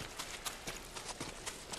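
Horse galloping in the video game Ghost of Tsushima, quick rhythmic hoofbeats repeating at an even pace, fairly faint and with no talk over them.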